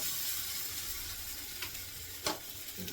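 Surmai kingfish slices frying in oil in a home pan, a continuous close sizzle with a few sharper crackles and stirring sounds, no talking.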